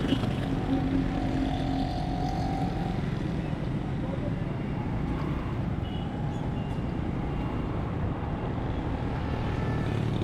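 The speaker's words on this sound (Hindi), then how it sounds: "एक और मोटरसाइकिल" Busy city street traffic with a motorcycle passing among other vehicles on the roads around Empress Market and Saddar, a steady dense engine rumble throughout with people talking over it.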